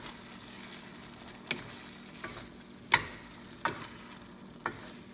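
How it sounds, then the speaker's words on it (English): Spicy tomato garlic shrimp frying in a pan, a soft low sizzle broken by five or six sharp scraping stirs of a utensil against the pan, quiet and close with no talk. "stir it again"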